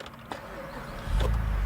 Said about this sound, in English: but we can start it up.